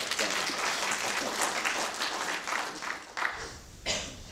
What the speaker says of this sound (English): I thought that I would get an applause for that.